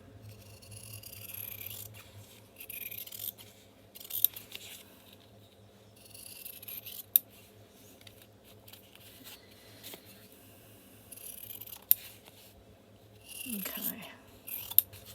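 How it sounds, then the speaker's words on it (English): Scissors trim paper for a Halloween grungy junk journal, producing quiet intermittent snipping and rustling in short bursts, with low background hum and a few sharp clicks from handling. "just get my scissors, I'll just trim."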